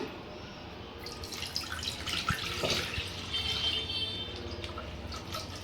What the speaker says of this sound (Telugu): ఇప్పుడైతే పాలు పోస్తున్నాను